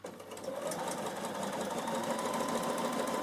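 Sewing machine running steadily as it stitches a narrow seam for a microwave bowl or triangle pouch, a continuous close whirring hum throughout with no talking.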